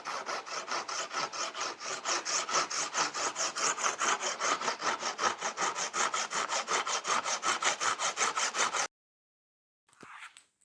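Hand saw cutting through wood scraps in a steady, brisk back-and-forth rhythm of long strokes, close and loud, stopping after about nine seconds, then a brief softer scrape.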